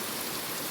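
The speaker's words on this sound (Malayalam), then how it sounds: "ഭയങ്കര മഴയുണ്ട് ഇവിടെ." Steady heavy rain pours down, making a dense, even hiss with no breaks and no voices.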